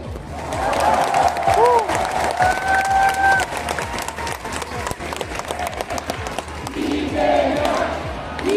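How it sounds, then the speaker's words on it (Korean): A crowd at a political rally in Korea bursts into loud, sustained applause mixed with cheering and shouts, with voices calling out throughout. "마지막 박수 한번 치세요."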